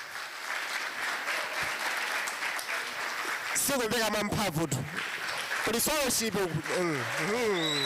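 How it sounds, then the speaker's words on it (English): An audience at an innovation talk event claps for invited guests, a steady wash of applause running throughout while a person speaks over it in the second half. "let us give another big round of applause to our invited guests."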